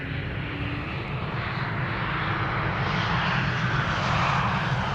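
SAS airliner on arrival at Amsterdam Schiphol, a steady loud broadband jet roar that holds and swells slightly over the whole stretch, with no voices.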